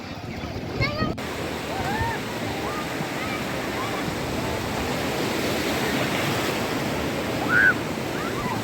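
Steady roar of ocean surf breaking on a beach, with voices faintly audible early on and a brief shout near the end.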